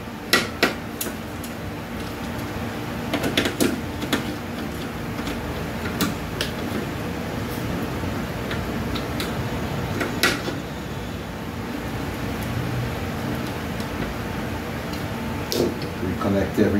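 Clanks, knocks and scrapes of parts and tools as a repaired machine with an intact primary-side fuse is put back together, scattered impacts over a steady background hum, with speech likely present.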